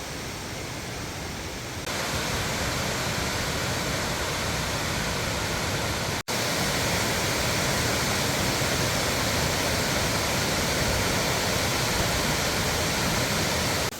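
A waterfall in the Finger Lakes region gives a loud, continuous broadband roar of falling water, with a softer opening two seconds before the full rush and a brief dropout midway.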